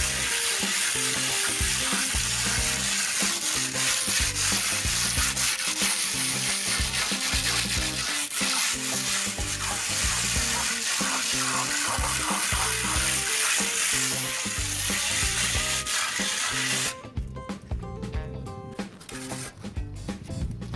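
A spatula smooths a glossy Grafinart texture finish across a house wall, making continuous close scraping and smearing strokes in a rough rhythm that drop to a quieter, sparser scrape near the end.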